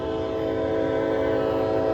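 A Norfolk Southern freight train passes close by in Gaffney, South Carolina, a loud, steady rumble of railcars with a sustained tonal hum running unbroken throughout, no talking.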